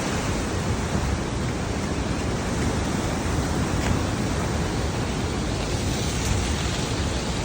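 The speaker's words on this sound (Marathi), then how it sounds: "नदी खूप जोरात वाहते. खूप सारा पाऊस झालेला आहे." A swollen river in Nepal runs hard after heavy rain, giving a steady, loud broadband roar like rushing water that holds unchanged through the whole stretch with no voices.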